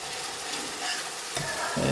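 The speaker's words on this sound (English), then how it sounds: "So I'll just give it a good stir." A spoon stirs powdered spices into onions frying in a pan for a monkfish curry, with a steady close sizzle and soft scraping strokes.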